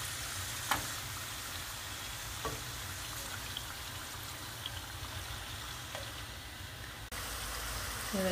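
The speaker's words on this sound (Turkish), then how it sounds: "Evet, ikinci tavamız da kızarıyor." Pumpkin patties made from a few simple ingredients fry in a pan, giving a steady, soft sizzle throughout with a few faint clicks over it.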